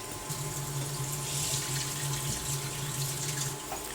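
Steady stream of water running from a tap into a pot, a constant watery rush with a low hum underneath, no voices.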